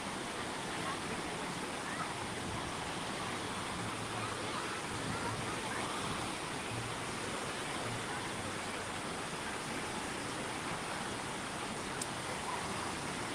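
Waves at Volcano Bay water park wash in as a constant, even roar of surf and spray, far-reaching and unbroken with no talk over it.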